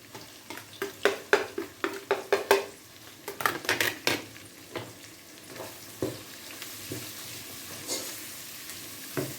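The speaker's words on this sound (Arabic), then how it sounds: "نبقاو نحركو في هاد الخضره ديالنا" Vegetables seasoned with cinnamon stick, black pepper, paprika, turmeric and salt are stirred in a sizzling frying pan, with a run of close, sharp spoon scrapes and clinks over steady frying that thins out toward the end.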